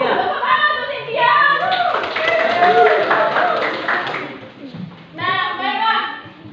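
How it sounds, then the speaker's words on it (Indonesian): Students in a twelfth-grade classroom clap together in a fairly loud burst that fades after a few seconds, with children's voices and chatter mixed in around it. "tepuk tangan untuk Cynthia."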